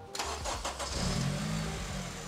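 A car engine cranks briefly and catches, then settles into a steady, close, moderately loud idle after a fault check; no one speaks over it.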